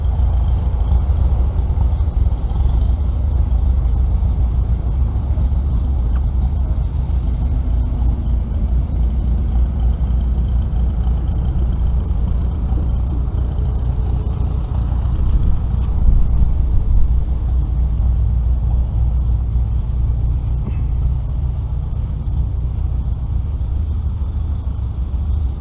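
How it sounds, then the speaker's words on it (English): A steam roller runs at a pioneer threshing show in Dalton, Minnesota, with a steady low mechanical rumble throughout, a brief swell midway and no talking. "Looks like we have a steam roller."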